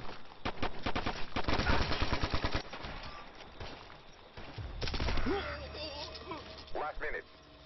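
Rapid automatic weapon fire in the Ghost Recon video game, a dense burst of loud gunshots followed by scattered shots, with radio-style voices talking over the later part.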